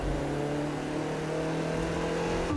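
A Mazda car's engine drones steadily in The Crew 2 racing game, a continuous close revving hum under faint crackly exhaust pops, with no talking.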